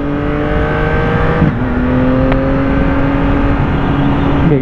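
A 2023 Yamaha XSR900 motorcycle engine pulls hard at full throttle from about 80 km/h, rising harmonic tones climbing steadily, loud and close with a brief gear shift midway and continuous road and wind roar underneath.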